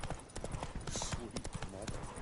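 Hooves of the horse Roach in The Witcher 3, rapid rhythmic clip-clop of a trot on hard ground, close and clear, with game dialogue voices over it.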